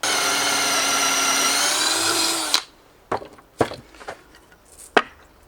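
A drill bores bolt holes into oak for a leatherworker's stitching clamp, a steady whining run for a couple of seconds that stops abruptly, followed by several sharp knocks and taps nearby.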